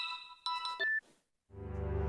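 A phone ringtone plays as a bright electronic melody for about a second, then cuts off; after a short silence a low, fuller sound rises and continues.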